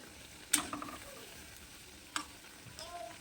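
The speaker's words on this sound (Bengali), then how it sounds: "পকোড়াগুলোকে উল্টিয়ে পাল্টিয়ে গোল্ডেন কালার করে ভেজে নেব" Maggi noodle pakoras frying in hot oil, a faint steady sizzle with two distinct clacks of a turning utensil against the pan.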